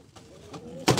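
A pair of Indian Lotan pigeons in a loft give a brief low coo, ending in a louder burst of sound.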